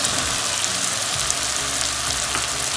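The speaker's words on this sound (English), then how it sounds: "Next I'm going to add soya chunks." Soya chunks frying in an oil-filled pan with potatoes for biryani, a continuous loud sizzle with crackling spatter, close by and steady, with a few stirring scrapes.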